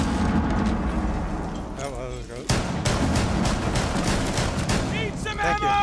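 Gunfire in Rainbow Six Siege during a Chalet team deathmatch on PC, with rapid bursts of shots and sharp impacts in close succession, plus a loud crack midway and players talking over the action.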